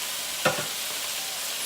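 Steak frying in a pan, a steady soft sizzle with a single sharp pop rising out of it, heard close and alone.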